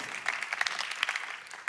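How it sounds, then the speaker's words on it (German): A church congregation claps during a sermon, a short, scattered patter of hands heard for under two seconds. "Applaus"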